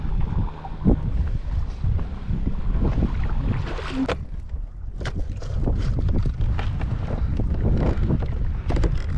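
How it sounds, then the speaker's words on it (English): Strong gusts on New Hogan Lake batter the microphone with loud, low rumbling buffets that rise and fall continuously, together with the sound of a boat on choppy water. "And the wind's kicking in hard."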